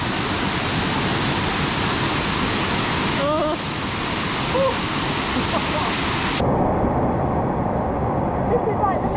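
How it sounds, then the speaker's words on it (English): The main waterfall in Jagna, Bohol, in the Philippines, roars as a dense, constant rush of falling water that fills the whole stretch without a break, with faint voices briefly surfacing through the noise. "This is like the main waterfall"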